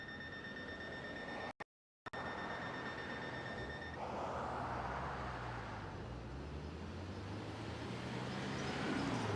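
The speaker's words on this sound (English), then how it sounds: "the accessible pedestrian signal will go off about 7 seconds before the cars get to go." An accessible pedestrian signal at a street intersection gives a steady repeating electronic tone over the hum of idling traffic. After a brief dropout the tone stops and vehicles begin moving through, their engines and tyre noise rising and passing.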